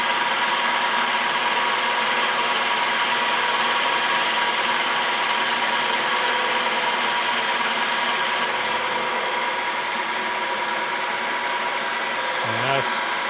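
Steady, dense mechanical whir of a Monarch Model K lathe making a cutting pass about 20 thousandths deep, loud and continuous throughout, with a brief clunk near the end.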